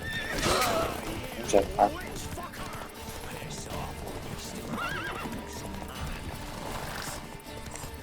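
Horse neighing and hooves clip-clopping in The Witcher 3: Wild Hunt video game, a couple of sharp whinnies early on, with someone talking over the game sounds.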